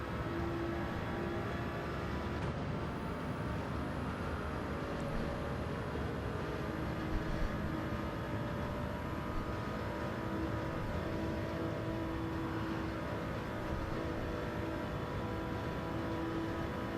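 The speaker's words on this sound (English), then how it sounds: "I love how you can hear cars flying over your head as you go under there." In Gran Turismo 7, engine roar from race cars passing overhead at the Tokyo circuit blends into a dense, steady wash of motor noise that stays loud throughout.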